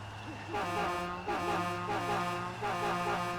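Semi truck horn blaring in an off-road trucking video game, a loud steady harmonic tone held continuously, with rumbling engine noise beneath and slight wavering in pitch.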